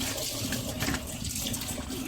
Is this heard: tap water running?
yes